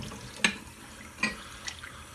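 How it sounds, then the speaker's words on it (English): Water runs faintly from a sink tap while a sponge is rinsed after dish soap. A low steady wash is broken by a few soft splashy clicks. "swish the sponge around, rinse it off"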